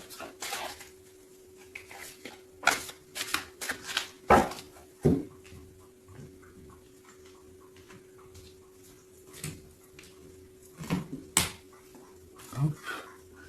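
Tarot cards being cut and shuffled by hand at close range, giving a string of crisp riffling snaps and soft slaps in uneven bursts over a faint steady hum.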